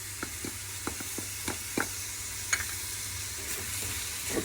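Vegetables seasoned with garlic, black pepper, turmeric and ginger are stirred in a pan: scattered spoon scrapes and soft clinks over a low, steady sizzle, close by, with no talking.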